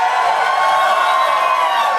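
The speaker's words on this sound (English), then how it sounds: "Let's hear some yells for Princess Celestia." An audience at a convention panel yells and cheers for Princess Celestia, a loud, sustained crowd roar of many high voices lasting the whole moment.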